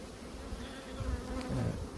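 Honeybees at a hive during a spring colony inspection drone in a steady, dense buzz close by, with individual bees swelling louder as they fly past; no talking.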